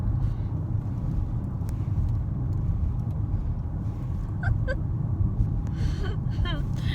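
A car being driven gives a constant low road rumble heard from inside the cabin, with faint murmured voices and small interior sounds over it.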